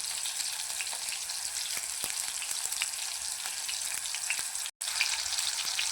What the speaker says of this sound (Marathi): टोमॅटो चांगलं तेलामध्ये फ्राय करून घ्या